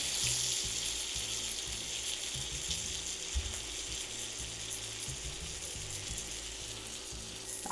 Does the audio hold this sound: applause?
no